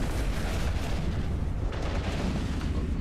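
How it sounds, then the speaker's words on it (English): Ships bombarding a tower in the space game Eve Online, a dense continuous roar of weapon fire and rumbling blasts, loud and unbroken throughout with no gaps. "Go ahead and shoot the tower, you guys."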